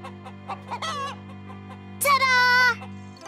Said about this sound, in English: Caillou liked watching the chickens.